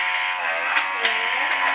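A small pore vacuum motor at its strongest suction setting whines with a steady, strained buzzing hum, close and continuous, with slight wavering in pitch.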